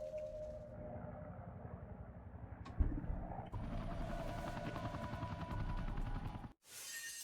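A helicopter boss in the video game Devil May Cry 2 drones with a steady, rapid rotor chop under loud combat sound effects and a burst of gunfire, then cuts out briefly near the end.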